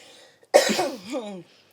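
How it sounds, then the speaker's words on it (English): A single short cough bursts out close and fairly loud after a near-silent pause, fading into a brief throaty tail. "I have a little cough"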